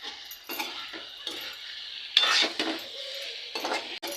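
A spoon stirs cooked snake gourd poriyal in a pan, with soft scraping and clinking of the utensil against the metal in several short passes, close and fairly quiet, with a faint sizzle.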